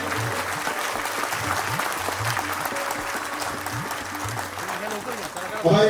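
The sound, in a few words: audience applause welcoming Bhaskarshet Jadhav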